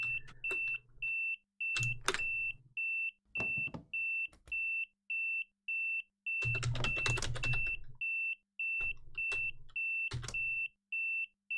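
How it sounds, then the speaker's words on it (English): An emergency alarm in a train cab in Train Simulator 2021, on the Birmingham Cross City Line, beeping in a steady on-off pulse throughout, loud and close, with clicks and clacks sounding in the gaps. "what is buzzing at me?"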